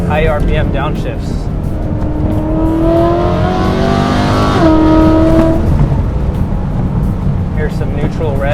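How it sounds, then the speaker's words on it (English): Modified BMW E93 M3 V8 climbing through the revs, then a sharp throttle blip on a high-RPM downshift, loud and close from the cabin with a continuous engine roar. "High RPM downshifts."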